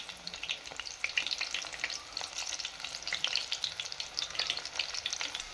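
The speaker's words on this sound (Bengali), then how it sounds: "এভাবে একটু ঘুরিয়ে ঘুরিয়ে ভেজে নিতে হবে।" Stuffed bitter gourds sizzle in oil in a frying pan, a soft, constant crackle with bright spitting pops, close and alone with no voices.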